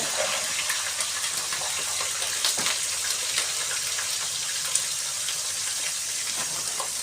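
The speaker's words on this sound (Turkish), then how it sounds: "mercimek çorbası kaynıyor" Continuous close bubbling and hissing of a pot of lentil soup at a rolling boil, with small pops scattered throughout.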